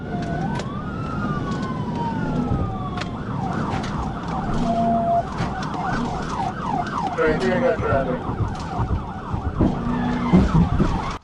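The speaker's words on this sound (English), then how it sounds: "Lights and sirens were blaring behind her" A police car siren wails and yelps loudly during a highway chase, sweeping up and down in rapid cycles over the rumble of engine and road noise, with brief radio chatter mixed in.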